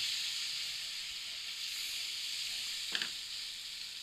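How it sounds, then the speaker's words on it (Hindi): Milk goes a little at a time into a cooked flour roux while it is stirred, giving a steady soft hiss with one brief louder splash-like burst near the end. "थोड़ा थोड़ा करके डालेंगे और हिलाते जाएंगे।"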